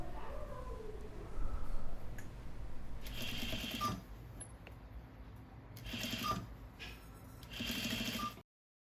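Sewing machine stitching scallops on a stretch fabric skirt yoke, running in several close bursts of rapid whirring and clicking, separated by short quieter pauses where the fabric is turned.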